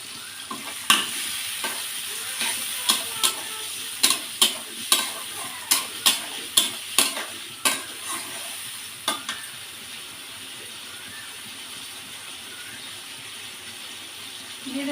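A ground ginger and cumin paste and a little water go into a fish curry frying in a pan, with a steady sizzle punctuated by a quick series of sharp spatula scrapes and stirs that then fade back to a soft fry.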